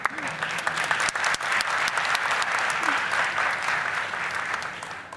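Sustained audience applause filling a quiz competition hall at a national science and maths contest, steady dense clapping throughout with a faint voice underneath.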